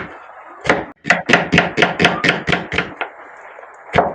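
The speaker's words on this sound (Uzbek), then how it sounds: "bitta dona piyozimizni maydalab to'g'rab olamiz" An onion chopped with a knife on a board: a quick run of about ten crisp, evenly spaced chops, a short pause, then one final chop, loud and close.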